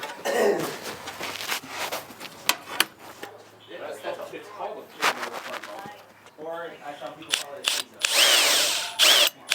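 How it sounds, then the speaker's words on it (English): A power drill whirs in short bursts, drilling a hole in a custom TIG-welded aluminum fuel cell, stopping and starting, with people talking and moving around nearby between the runs. "So I gotta drill the hole for that out now too"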